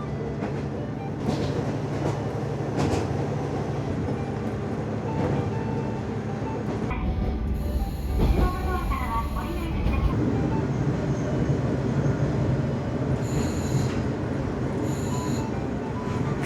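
A KiHa 47 diesel local train, heard from on board, rolls into a station between Tottori and Toyooka with a steady low rumble of wheels and engine, and brief brake squeals rise near the stop.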